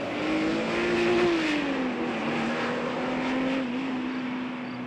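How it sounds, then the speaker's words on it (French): A Ferrari Testarossa V12 runs steadily and loud nearby, with a smooth sustained engine tone that shifts slightly in pitch as the revs change, with no talking. "un tour de clé et on entend le V12"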